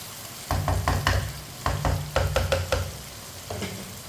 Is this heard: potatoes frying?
yes